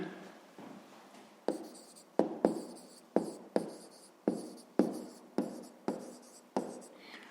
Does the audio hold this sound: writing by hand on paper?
yes